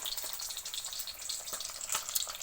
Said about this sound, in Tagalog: Kasi prito po siya, guys. Fried fish.